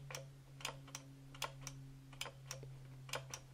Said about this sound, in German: Da haben wir ein schönes Klicken und es fühlt sich auch sehr cool an hier.